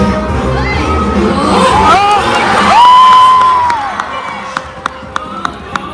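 A cruise ship crowd at a dance show on a Disney Dream sea day cheers and shouts, with whoops and high voices rising to a loud peak, then fading to scattered claps and murmurs.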